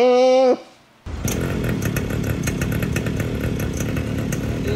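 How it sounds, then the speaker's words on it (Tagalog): A motorcycle engine starts up, then revs hard with a buzzing, rattling roar that holds steady and loud, preceded by a brief tone. "Vince, try mo rin yung motor."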